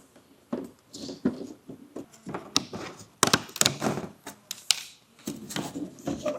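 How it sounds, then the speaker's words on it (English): Tin snips cutting out a section of plastic or metal body panel on a 2020 Lexus RX 450h for a Curt Class III trailer hitch install, giving close, irregular crunching snips and clicks in bursts. "So cut it out with some tin snips."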